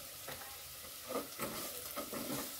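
Chopped onion softened with turmeric frying over a medium flame, stirred in a pan with a quiet sizzle and a few soft scrapes, faint and close, with no talking.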